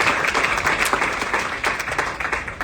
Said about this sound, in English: Let's give a round of applause to those local companies doing a great job